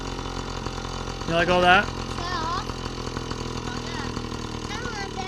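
A Yamaha PW50 dirt bike engine runs after a bogging fix, a steady buzzing two-stroke drone with a brief rev swell, while a person talks briefly over it.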